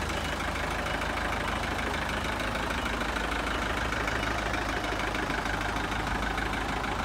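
A turbocharged 4D34 diesel engine in a 2006 Mitsubishi Canter FE83 tray-back truck with a five-speed manual idles steadily, a dense, even clatter heard close up and alone for the whole stretch.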